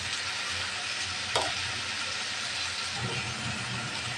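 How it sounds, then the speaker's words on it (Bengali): Bitter gourd with salt and turmeric sizzles in a frying pan, a constant close frying hiss with a couple of brief scraping stirs. "নাড়াচাড়া করে মশলার সাথে মিশিয়ে নেব।"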